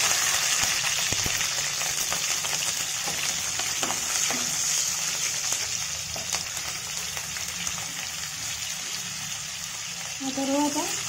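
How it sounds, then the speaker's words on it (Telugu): Cumin and green chillies fry in a pan for a ridge gourd chana dal curry, a steady hissing sizzle with occasional spoon scrapes and clinks, and a brief voice near the end. "కొద్దిగా జీలకర్ర స్పూన్తో తిప్పాలి."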